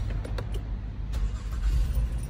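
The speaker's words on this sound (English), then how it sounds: "Car is starting." A 2019 Honda Pilot engine turns over and catches, heard close by as a low, brief rumble with a light jingle of keys near the start.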